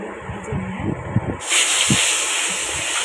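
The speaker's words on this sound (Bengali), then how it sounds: "যে তেল গরম হয়ে গেছে, এখন মাছগুলো আমি দিয়ে দেবো। মাছগুলো আমি ভেজে নেব।" Rita fish dropped into hot oil: low handling clatter at first, then a sudden loud frying hiss that starts partway through and keeps going steadily at close range.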